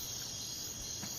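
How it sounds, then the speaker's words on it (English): Crickets chirp outdoors in a steady, continuous high-pitched trill that holds evenly throughout, with no voices over it. "Boy, the crickets are out today."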